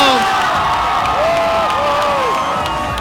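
A large crowd cheers and whoops loudly and continuously at a fishing tournament weigh-in, a steady roar of voices with whistles and shouts rising above it.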